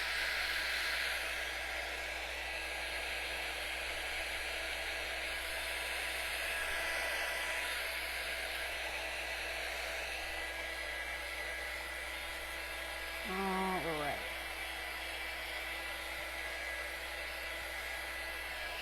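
A hair dryer blows steadily on a wooden door hanger kit to dry fresh paint on its outside edges, a continuous close whooshing hiss with a brief shift in tone near the end.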